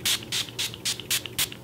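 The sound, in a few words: Urban Decay All Nighter makeup setting spray being sprayed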